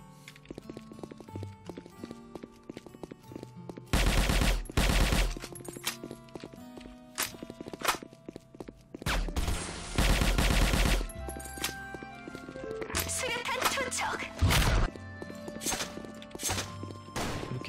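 Gunfire in the online shooter Sudden Attack: bursts of automatic rifle fire and single shots crack out in clusters at varying loudness, with footsteps and other game sounds between them.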